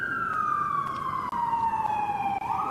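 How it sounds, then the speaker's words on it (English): A police or emergency siren drones past alone, its steady wail gliding slowly downward in pitch as the vehicle moves away, loud and close throughout with two brief dropouts. "the siren's going by"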